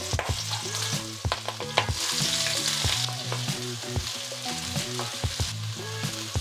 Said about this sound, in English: to do all the stir frying